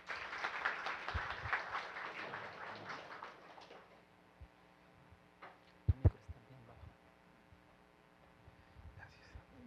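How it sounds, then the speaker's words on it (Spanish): An audience at a formal lecture event breaks into applause, strongest over the first few seconds and then thinning out. Faint scattered taps and a few knocks follow against a quiet background hum. "Fuertes palmas, por favor."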